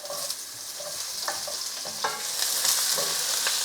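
Onions frying in a pan for an onion and peas pulao, a steady hiss of sizzling oil with a few light stirring scrapes and clinks, close and loud, with no voices.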